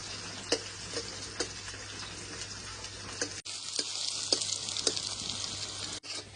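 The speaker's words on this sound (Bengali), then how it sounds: "এবার ওই তেলের ভেতর সেই দুই টুকরো চুই আর পেঁয়াজ কুচিটা দিয়ে দেবো পেঁয়াজটা ভালো করে লাল লাল করে ভাজবো" Chopped onion and two pieces of chui sizzling in hot oil while cooking desi chicken, a steady close frying hiss with occasional stirring clicks and no talk.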